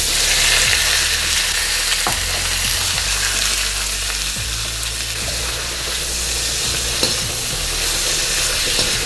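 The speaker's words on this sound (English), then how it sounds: "So all we're doing here is we're browning the meat a little bit, cooking it down and rendering some of the fat." Pork belly pieces brown in a hot wok with shallot oil for Taiwanese braised pork belly, a loud constant sizzle and spatter with occasional scrapes and clanks of stirring.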